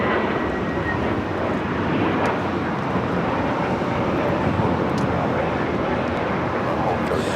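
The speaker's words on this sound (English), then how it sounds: "This is JetBlue 2010 taking off to West Palm Beach on the A321neo LR." A JetBlue Airbus A321neo LR takes off from LAX, a steady, loud broadband jet engine roar that holds evenly throughout, with faint wind on the microphone.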